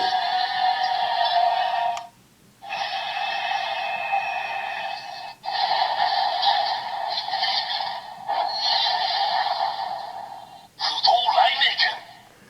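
A Yo-kai Watch DX Youseiken toy sword's electronic summoning sound plays in several loud, bright bursts with short breaks, ending in a choppier flourish that resembles a spoken callout of the sword's name.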